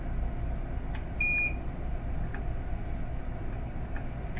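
A single short electronic grip error alarm beep from a Hakko FM-206 soldering station, steady and high-pitched, sounds once over a constant low hum and faint ticking.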